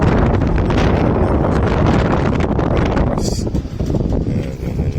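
Loud, steady wind buffeting the microphone, a continuous rumbling roar that eases slightly toward the end.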